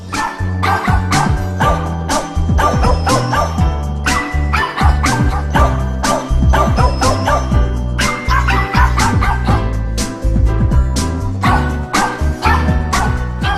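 Dog barking near a Thai temple, Wat Tham Khao Yoi in Phetchaburi: loud, close, repeated barks and yips in quick irregular bursts that go on steadily for more than thirteen seconds, with occasional whimpers and no talk over them.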